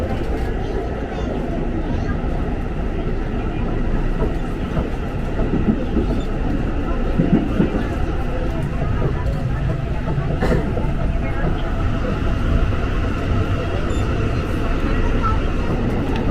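A KRL TM 6000 series commuter train speeds through a track switch near Manggarai station, producing a steady, loud, close rolling rumble with faint wheel clatter over the full span and no pauses.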